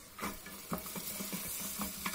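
Coarsely chopped carrots stirred into caramelizing onions in a pan, a steady close sizzle of frying with repeated scraping stirs.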